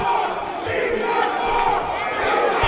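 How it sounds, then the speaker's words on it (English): A wrestling crowd at a women's street fight show chants "He's Hardcore" loudly and continuously in a packed venue, a dense wall of massed voices with rhythmic emphasis throughout. "And the He's Hardcore chants are happening."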